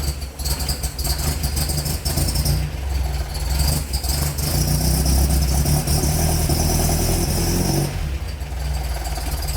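MGB engine idling with a newly fitted exhaust, a close, continuous low rumble with slight revs and surges, brief pauses around the midpoint and near the end, no talking.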